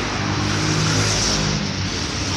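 Heavy road traffic: a dense, continuous roar of cars and motor vehicles, loud and even throughout, with no distinct passes standing out and no talk.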